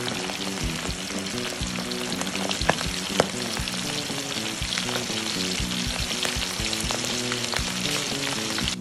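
Breaded squid, salt-and-pepper Chinese style, frying in very hot oil gives a steady loud sizzle with crackling pops and repeated scraping stirs of a utensil, two sharper clacks in the middle, no voices.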